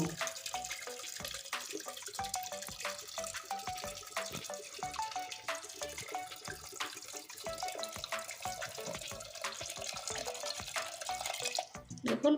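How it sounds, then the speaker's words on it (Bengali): Water pours into a pressure cooker holding chickpeas for boiling, a steady close splashing stream with small drips and clinks throughout. "এখন আমার পরিমাণ মতো জল দিতে হবে সিদ্ধ করার জন্য"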